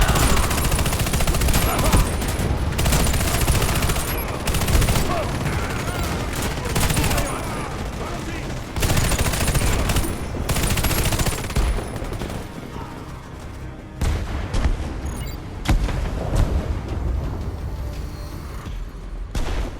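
Machine gun fire in the shooter game Warface rattles in dense, continuous bursts with explosions mixed in, loud and close, while a game voice speaks over the combat.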